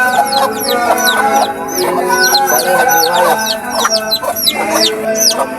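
A red junglefowl hen clucks repeatedly in short, close bursts, with other chick-like peeps and chirps layered around it and a brief spoken phrase in the middle.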